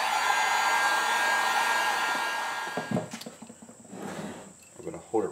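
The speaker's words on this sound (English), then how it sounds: "Get our heat gun out." A heat gun roars steadily and loudly while warming a simple cosplay superhero mask, then cuts out, leaving scattered handling knocks and clatter.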